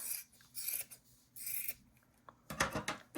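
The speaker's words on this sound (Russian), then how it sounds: "Самое большое убираю ножницами большими" Large scissors trimming, several separate rasping snips and rubbing strokes in short bursts, close and quiet, with no voices.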